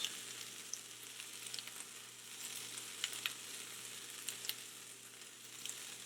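Venison fries sizzle and crackle in a pan, a soft steady frying hiss dotted with small pops, fairly quiet and with no talking.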